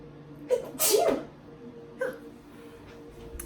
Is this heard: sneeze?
yes